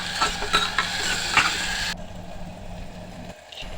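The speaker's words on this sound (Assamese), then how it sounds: "বেটালে তেলখিনিত পাঁচফোৰণ ফুটাই লৈ দালিয়ে চাউল আলুখিনি ভাজি লৈছোঁ" Dal, rice and potato fry in oil with panch phoron, a spoon scraping and stirring in quick strokes over a light sizzle for about two seconds before the sound drops away to quiet background.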